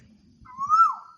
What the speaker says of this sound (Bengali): কোকিল ডাকতেছে।